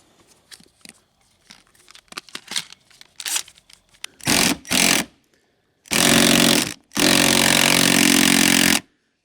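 Rusted bolts on a Pontiac Grand Am front bumper are loosened with a 10mm socket: scattered clanks and scrapes first, then three loud sustained bursts of power-tool whirring, the last two long and continuous.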